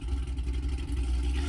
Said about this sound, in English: got a Corvette that pulled up just right beside me. Sounds like a freaking boat motor.